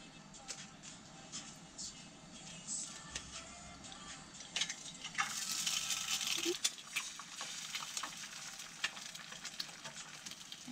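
Small eggs frying in a pan, a faint continuous crackling sizzle with scattered pops and light utensil taps, swelling louder for a few seconds midway before settling back.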